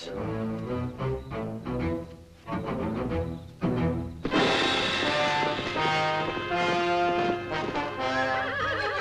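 Over dramatic orchestral music, a horse lets out a loud, close neigh midway through, with hoofbeats clattering in the moments before it.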